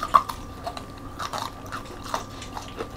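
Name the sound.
crunching boneless chicken wings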